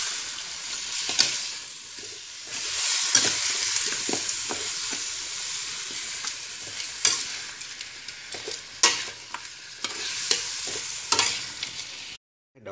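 Fish slices go into a pot of fish porridge on the stove: a steady bubbling sizzle with irregular clinks and stirring scrapes throughout, fairly close and loud, ending abruptly.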